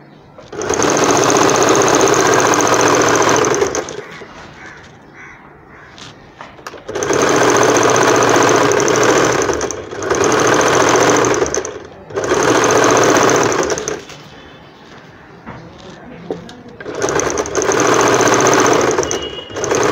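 Sewing machine stitching down the hem of an umbrella frock, running in steady whirring bursts of several seconds with short quiet pauses between, close and loud.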